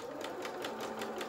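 A sewing machine stitches through fur fabric for a small toy jacket, a quick, even run of soft rhythmic needle thumps lasting just over a second, quiet and close.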